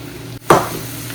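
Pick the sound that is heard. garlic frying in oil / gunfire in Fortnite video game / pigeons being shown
garlic frying in oil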